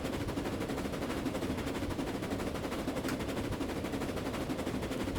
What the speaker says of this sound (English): It's a very noisy train, this one, isn't it?